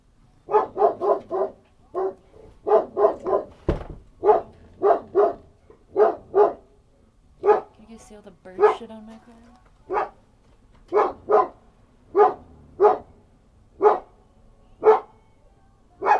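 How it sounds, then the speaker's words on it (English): A dog barks over and over in short, sharp bursts that come in quick clusters and then steady single barks, with a person briefly speaking partway through. "What are we barking at?"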